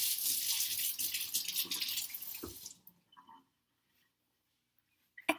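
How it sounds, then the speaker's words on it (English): Running water from a kitchen sink faucet rinsing a fork, a steady close splashing stream that cuts off after a few seconds, followed by near silence and a small clink at the end. "Okay, let me rinse off my spoon."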